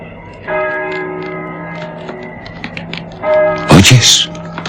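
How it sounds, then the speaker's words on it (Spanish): Deep church bells toll with long ringing tones, struck twice with a pause between, followed by a sharp clatter. "¿Oyes? Las campanas doblan."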